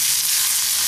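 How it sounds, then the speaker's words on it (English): Mushrooms sizzling in a hot pan beside grilling bison burgers, a close, steady hiss of frying over a short moment. "We're gonna stir the mushrooms"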